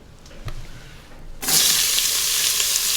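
Onions dropped into about two tablespoons of hot bacon fat in a pot on saute mode, a soft clatter followed by a sudden loud, steady sizzle that continues to the end.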